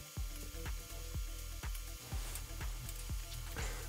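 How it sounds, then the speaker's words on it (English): A ratchet wrench tightens bolts and nuts on a steel torsion axle of an electric bicycle camper, about a dozen sharp evenly spaced clicking strokes with a low whirring hum behind, close and alone. "Tightening all the bolts and nuts on the torsion axles one last time before I start to put the side panels on."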